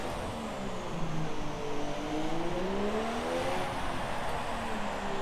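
Formula-style race car engines in a racing video game at the Singapore circuit, several cars droning and revving together with rising and falling pitch, up close and continuous with no talk.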